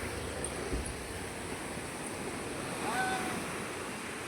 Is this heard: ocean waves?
yes